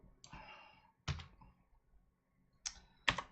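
Computer keyboard keys struck in a few separate short bursts, close and fairly quiet, with brief gaps of near silence between them and no talk.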